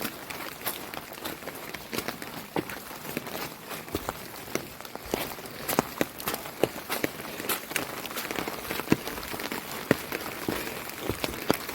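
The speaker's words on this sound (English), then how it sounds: "You can hear the rain on my umbrella." Rain patters steadily on an umbrella held by a hiker on the Appalachian Trail, with sharp drops tapping irregularly and footsteps crunching throughout, close and moderately loud.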